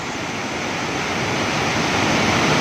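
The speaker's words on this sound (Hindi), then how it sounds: "ये है जी वाटरफॉल का मेन दहाना," Sandhoa waterfall in the Samahni valley of Azad Jammu and Kashmir, a dense, steady roar of falling water filling the whole clip, close and loud with no speech.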